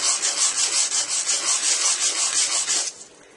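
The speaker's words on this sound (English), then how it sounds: "Take your sandpaper to take out that little bit of wood there" Sandpaper rubs steadily back and forth across the cut end of a wooden dowel in quick, even strokes, close and crisp, then stops abruptly.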